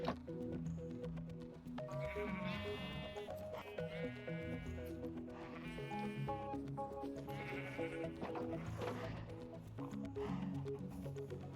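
Sheep bleat repeatedly in a modded farming video game, several drawn-out wavering calls spaced a couple of seconds apart over soft background music.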